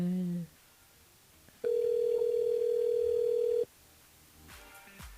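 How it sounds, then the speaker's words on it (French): A phone line at a French-language radio station on Réunion sounds a single steady tone during a call-in quiz, holding for about two seconds at even loudness between brief bits of talk before and after. "On appelle Marie sur le standard de la radio"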